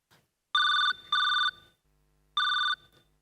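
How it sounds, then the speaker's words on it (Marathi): A phone video call rings with three bright electronic ring bursts, two close together and then a third after a pause, loud and near with faint background noise. "बाबांना व्हिडिओ कॉल कर"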